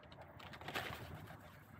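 Pigeon cooing outdoors on a city street amid litter, a soft, fairly faint call that swells briefly in the middle over steady background noise.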